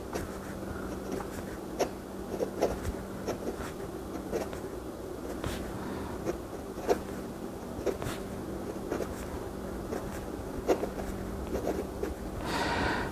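A Hong Dian Black Forest fountain pen with a fairly dry flow writes on paper, its soft, close scratchy strokes coming in a quiet, uneven rhythm.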